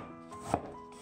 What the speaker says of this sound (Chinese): 再切点姜片。